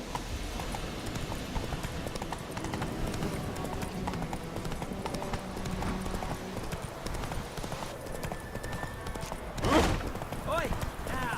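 Hooves of Geralt's horse Roach clip-clop in a steady galloping rhythm in The Witcher 3 game, mixed with game music and a brief whinny-like cry near the end, with talking throughout.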